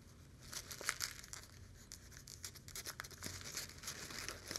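A wet paper towel rubbed over a glass cabochon pendant to wipe off diamond glaze, faint papery crinkles and scrapes in irregular bursts over a quiet background.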